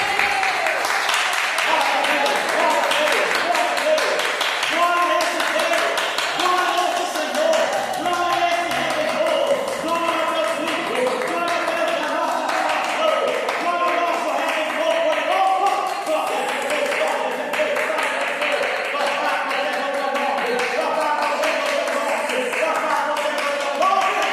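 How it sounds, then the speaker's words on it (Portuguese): Congregation clapping freely during an evangelical church service, a steady patter of hands running under loud voices that sound like singing or praising throughout. "Agora nós vamos bater palmas à vontade e dar glória ao nome santo do Senhor Jesus"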